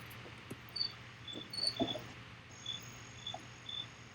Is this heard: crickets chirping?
yes